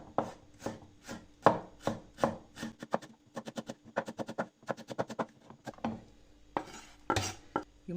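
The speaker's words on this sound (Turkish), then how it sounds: "Sivri biberlerini de yine aynen ince bir şekilde doğrayacağım arkadaşlar." Green chili peppers are finely chopped with a knife on a board, a quick run of crisp, even taps close up, pausing briefly before another burst.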